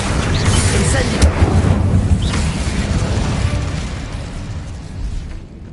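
The Incendio fire spell from the Hogwarts Legacy video game goes off as a loud, roaring blast of flame that rumbles on for several seconds before slowly fading.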